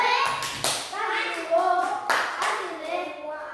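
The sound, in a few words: children clapping for a classmate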